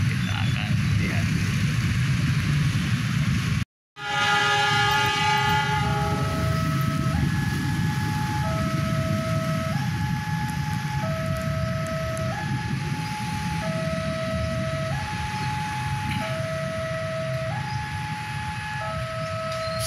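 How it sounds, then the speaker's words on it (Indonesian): A KA Semen locomotive at a station gives off a continuous heavy rumble, while a two-tone warning signal alternates steadily over it for most of the span. "Kita tunggu sebentar lokomotif yang berdinas pada pagi hari ini."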